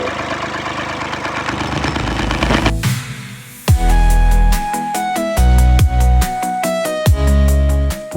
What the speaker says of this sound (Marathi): स्लरी भरायसाठी ट्रॅक्टर लावलेला आहे